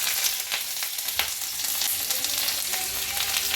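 Onion added to black mustard seeds in hot oil sizzles loudly and steadily up close, with scattered crackles and pops throughout.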